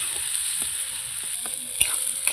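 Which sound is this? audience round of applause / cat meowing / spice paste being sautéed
spice paste being sautéed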